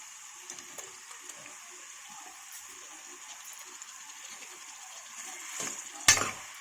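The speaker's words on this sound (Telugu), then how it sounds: "ఇప్పుడు టమాటోస్ వేసుకొని కొద్దిసేపు కుక్ చేసుకుందాం" Low, steady sizzling of tomatoes frying in a pan for mutton curry, with occasional stirring scrapes, ending in a brief louder clatter.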